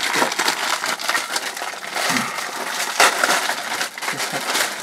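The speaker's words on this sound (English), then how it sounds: "Opening plastic bags has got to be the most irritating noise on the web ever" A plastic parts bag from a Millennium Falcon model kit issue is torn open and handled close up, giving a continuous loud crinkling and crackling rustle with no talking.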